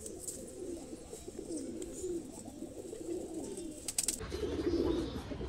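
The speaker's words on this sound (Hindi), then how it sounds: "दोस्तों आज आपके लिए लेके आए हैं मद्रासी कबूतर, बहुत प्यारे कलसीरे" Madrasi Kalseere pigeons coo in low, rolling phrases that repeat steadily throughout, close and fairly loud, with a brief higher bird call near the end and no talking.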